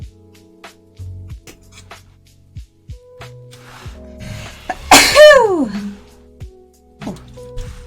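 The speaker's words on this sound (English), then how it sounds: "Oh, quick sneeze." One sharp, loud sneeze bursts out mid-clip, set among scattered soft clicks and handling noises while someone assembles a Tanjiro figure by hand.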